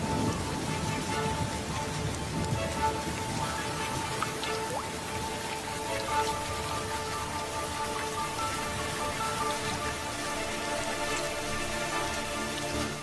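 Steady heavy monsoon rain pours over the highlands of an island, a dense continuous wash of drops hitting surfaces, close and unbroken, with no clear thunderclaps standing out.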